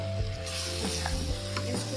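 Eggplant and fried potatoes stirred into spices in a pan, a steady close sizzle of frying under scraping spoon strokes across the metal, no voices.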